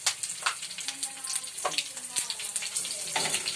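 Green chillies frying in a pan with spices, a continuous close sizzle broken by clinks and scrapes of a stirring spoon, with some watery bubbling underneath.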